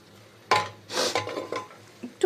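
Chicken pieces are stirred in a cooking pot for a chicken soup, with a few distinct scraping and clanking strokes of a utensil against the pot. Each stroke is short and close, with gaps between them.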